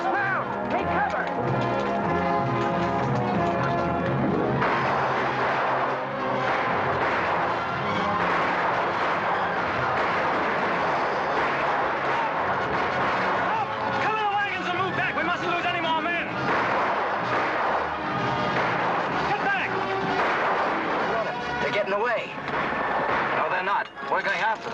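Rifle gunfire in a 1940 western film battle runs dense and continuous, with cracking shots layered over loud, busy action sound and shouting voices throughout, never easing.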